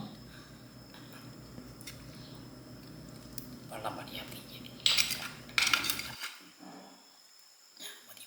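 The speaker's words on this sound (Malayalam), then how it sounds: "അപ്പോൾ ചോറ് വിളമ്പാണ് അപ്പോൾ നമ്മളെ കറി അത് വിളമ്പാം" Rice and fish masala curry are served onto a plate at home, with soft scraping, then a few sharper clinks and clatters of a spoon against dishes, fairly close, with some background voices.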